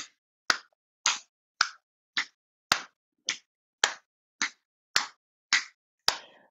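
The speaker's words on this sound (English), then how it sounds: "let's play with a little clap forward and back" Hand claps during a yoga session, alternating forward and behind the back: about eleven sharp, evenly spaced claps roughly every half second, close and crisp, with no talking.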